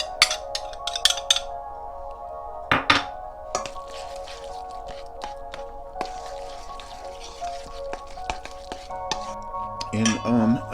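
Ingredients for a Japanese egg salad sandwich being mixed in a bowl, with clinking utensils against the bowl, intermittent scrapes and clatters, close and fairly loud, and a few sharp knocks near the end.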